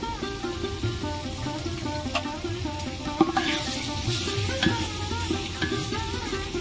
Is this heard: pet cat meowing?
no